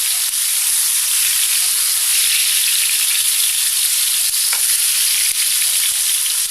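Tomatoes frying in hot oil in a heated pan give a loud, continuous, even sizzle, close up and alone, with a few faint ticks and no voices.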